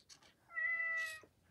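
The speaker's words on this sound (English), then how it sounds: "will make the head and the tail move and make it meow." The Elephant Robotics Metacat Version 2.0 robotic pet cat gives a single clear electronic meow, about three quarters of a second long, close and alone in a quiet room.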